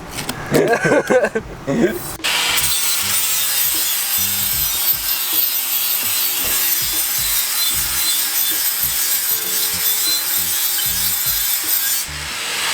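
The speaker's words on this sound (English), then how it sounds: "now we're just sanding it with 400 grit sandpaper." Steady back-and-forth rubbing of 400 grit sandpaper over a primed 1979 Odyssey FL250 two-stroke off-road go kart, a continuous rasping scrape with rhythmic strokes after a brief louder noise at the start, close and fairly loud.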